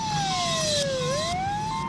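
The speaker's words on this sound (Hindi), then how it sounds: "तभी एक एम्बुलेंस काफी तेजी से जा रही होती है" An ambulance siren wails with a clear rising and falling pitch, its tone dipping as it passes close through heavy traffic, loud and steady with no speech.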